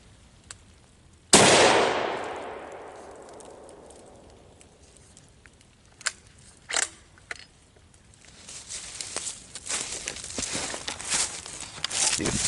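A single loud Bushmaster rifle shot rings out outdoors at a JB Weld target, its sharp crack decaying into a long echo, followed by a few faint knocks and rustles.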